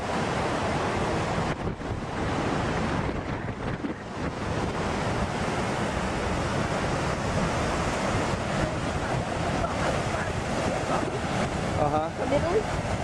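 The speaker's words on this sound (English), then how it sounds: "Bondi Beach, Australia." Ocean surf and wind at Bondi Beach, Australia: a dense continuous roar of breaking waves with wind buffeting the microphone, steady and loud throughout, with no clear talk.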